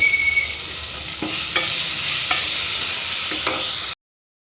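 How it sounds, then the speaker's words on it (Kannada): Onions salted and frying in a pan give a steady, loud sizzle with a few scraping stirs of a spatula, no talking over it, before the sound cuts off abruptly near the end. "ಇವಾಗ ಈರುಳ್ಳಿ ಸ್ವಲ್ಪ ಫ್ರೈ ಆಗಿದೆ"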